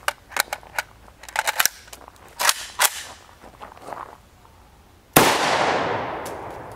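A rifle with a 10-inch PAP barrel fires PMC X-TAC 5.56x45mm 62gr FMJ M855 ammunition outdoors: one loud, close report with a long decaying echo, preceded by small clicks and handling noises.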